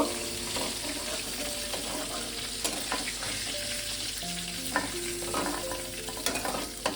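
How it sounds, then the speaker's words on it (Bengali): Hilsa fish head frying in a pan, a loud continuous sizzle with frequent clattering stirs and scrapes of a spatula, close up throughout. "মাথাটা আমি 3-4 মিনিট ভালো করে একটু ভেজে নিলাম।"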